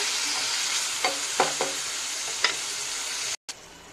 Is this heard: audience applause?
no